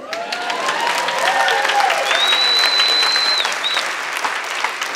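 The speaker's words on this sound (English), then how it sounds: "let's give one more round of applause for how great I look in this dress" Sustained audience applause fills a conference hall during a talk at a float conference, steady and dense from start to finish, with a faint high whistle-like tone gliding above it midway.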